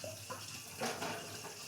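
Water poured into a pot for boiling potatoes in a home kitchen, a brief soft splashing gush with a louder surge near the middle, no voices.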